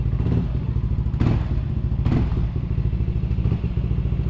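A Yamaha Nmax motor scooter, just refitted with its spark plug, runs close by with a steady low engine thrum, broken by a few sharp thuds and rattling clatters as the throttle is blipped.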